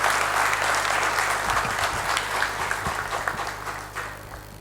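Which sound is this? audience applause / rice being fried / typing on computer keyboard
audience applause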